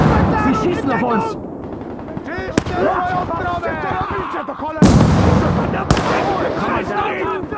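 Gunfire in a Siege of Warsaw video game battle, loud and close, with rapid bursts and a few sharp isolated shots cracking through continuous combat noise while voices shout over it.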